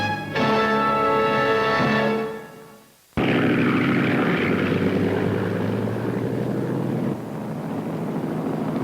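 A loud, steady propeller plane engine drone with a harmonic hum, recorded aboard the plane during 1956 news coverage, briefly cutting out before returning as a fuller roar.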